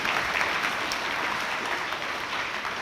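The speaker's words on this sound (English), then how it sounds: "I'm sure we'll give him some applause" A crowd at a school mural dedication ceremony claps for Chief Joseph in a sustained, even round of applause that holds at a steady level from start to finish.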